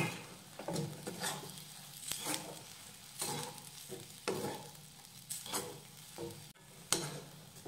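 Sautéed masala paste with Byadgi chili powder is mixed in a pan for patvadi rassa, heard as rhythmic, repeated scraping strokes of a spoon with a faint sizzle underneath, quiet and close, without speech.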